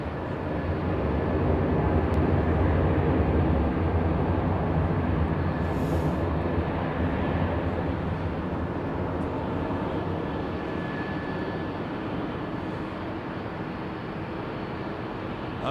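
An aircraft engine roars steadily at London Heathrow Airport, a loud, broad drone that holds for the whole stretch, fading slightly toward the end with no voices.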